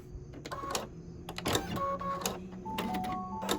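An embroidery machine finishes the last stitch of a Halloween quilt block with a short burst of mechanical whirring, clicking and tonal motor hum up close, then falls mostly still.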